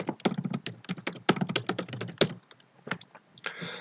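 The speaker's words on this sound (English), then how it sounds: "you can open your command prompt and type in Python" Rapid typing on a computer keyboard at a command prompt, with dense, close key clicks in quick bursts that slow to scattered taps toward the end.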